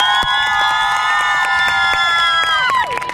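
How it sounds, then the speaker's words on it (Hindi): A crowd of schoolgirls at the opening ceremony of an annual school sports gala cheers and shrieks loudly in sustained, high-pitched voices, close and continuous, tapering off near the end. "भरपूर तालियों से।"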